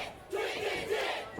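A wrestling crowd at a Juggalo Championship Wrestling show chants in rhythmic, repeated swells, the massed voices distant and somewhat muffled, sounding like an arena heard from afar.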